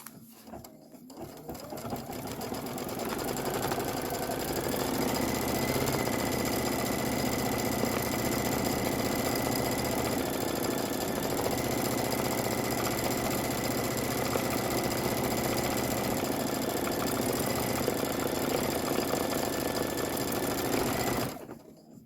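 An embroidery machine stitches the stem detail of a candy corn flower design in a fast, steady mechanical whir with a regular rapid stitching rhythm, close and constant from start-up to a clean stop, with no talking.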